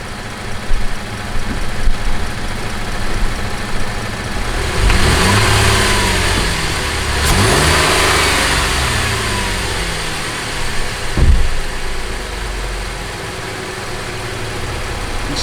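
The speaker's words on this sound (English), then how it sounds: "let me give it some RPMs here, and first I'll give it a quick acceleration" A car engine idles, then revs up in quick bursts of acceleration during a five-gas exhaust analyzer test, rising and falling in pitch up close, with a sharp rev around the middle and another near the end.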